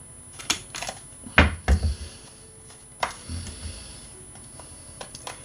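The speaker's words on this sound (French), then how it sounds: "je fais un trou là-haut" A hand punch goes through a rhodoid acetate sheet for eyelets, making a few sharp mechanical clicks and crunches. The loudest cluster comes early, followed by lighter ticks and handling noise in a quiet room.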